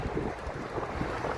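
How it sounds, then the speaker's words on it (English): Gusty wind buffeting the microphone in a low, rumbling roar that rises and falls unevenly throughout. "It is definitely windy."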